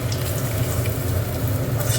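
Pieces of fish for doi katla fry in hot oil, giving a steady, dense, close sizzle that runs evenly throughout with no voices.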